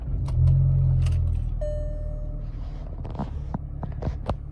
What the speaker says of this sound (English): So I'll just start up the car now